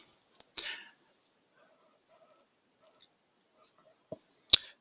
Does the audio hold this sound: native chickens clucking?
no